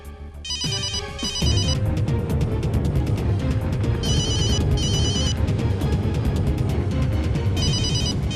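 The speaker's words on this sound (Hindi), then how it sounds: "मोबाइल की रिंग कैबिन के अंदर से आ रही है।" A mobile phone rings from inside a locked cabin, an electronic ringtone repeating in bursts over a steady background, fairly loud and close, with no one speaking.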